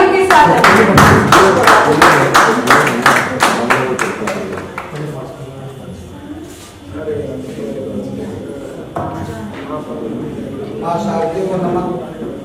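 A literature festival audience at Hindi Bhavan, New Delhi, claps for a poet in loud, fast, closely spaced rhythmic applause that fades after a few seconds, followed by someone speaking.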